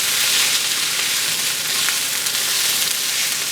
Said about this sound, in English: We need to start sauteing these up.